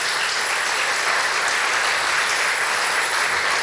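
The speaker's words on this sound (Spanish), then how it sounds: "Dale otro aplauso al Señor" Sustained loud applause from a church congregation during a Spanish-language worship service, a dense steady wash of clapping throughout with no talk.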